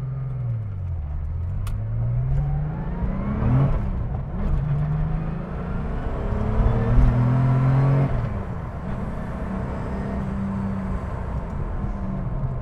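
A Porsche 930 Turbo engine revs hard through rising, falling sweeps as it accelerates and shifts gears, a loud rasping roar heard from inside the car.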